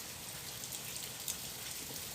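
Heavy rain pours steadily, heard through an open window as a dense, unbroken hiss with scattered drop patters, fairly soft and without talk over it.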